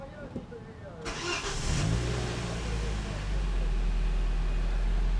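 A Toyota 1ZR-FE engine, freshly rebuilt with about 205,000 km showing, fires up after a quiet lead-in and settles into a steady, loud, close idle that runs smoothly to the end.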